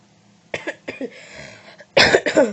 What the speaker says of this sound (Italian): scusate per la tosse